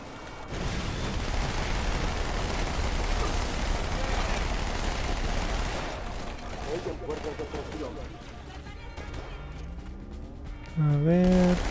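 Gunfire in Halo 2 on Legendary difficulty: a dense, continuous barrage of shots and blasts for several seconds, then sparser bursts and game effects, with a louder tonal sound near the end.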